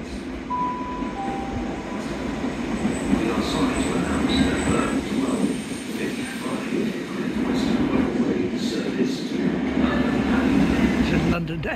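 A London to Edinburgh train rumbles steadily past with a continuous roar and faint clatter, close and loud throughout, while people talk over it.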